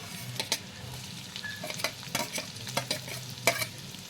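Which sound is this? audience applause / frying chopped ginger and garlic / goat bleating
frying chopped ginger and garlic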